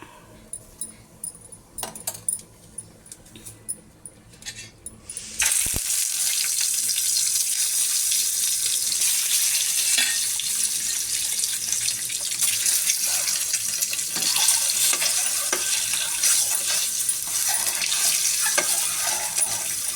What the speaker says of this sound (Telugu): ఎగ్స్ మీద కొంచెం సాల్ట్, హల్దీ వేసేస్తాము. వేసి ఫ్రై చేయాలి.